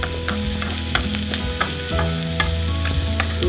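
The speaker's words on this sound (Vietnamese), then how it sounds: "món này mình đã xong khói rồi, cho nên là mình xào nữa, không bao giờ nát đâu" Wild game meat stir-fried with chim chim leaves sizzles steadily in a pan, with repeated scraping stir strokes over a constant frying crackle, close and fairly loud with no talking.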